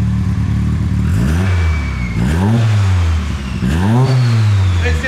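A tuned Audi car engine revving hard in repeated loud bursts, each rising to a roar and then falling back, close and dominant, with a little clatter between revs.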